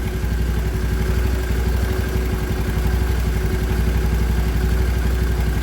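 A small engine idles steadily nearby, its rapid mechanical pulsing and clatter running unbroken and fairly loud from start to finish, with no voices.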